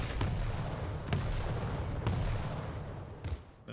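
Sharp weapon shots ring out in a fast-paced arena shooter match, several evenly spaced cracks about a second apart over a constant roar of game action, with no voices.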